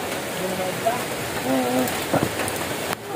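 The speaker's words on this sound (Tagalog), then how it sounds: "Inabutan ng ulan." Steady rain falling outdoors, a dense continuous patter with occasional louder drops and faint background noises throughout.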